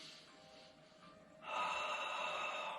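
A breath exhaled during a Pilates breathing exercise: a soft, faint airy breath, then a stronger, steady hiss of air out through the mouth lasting over a second, close.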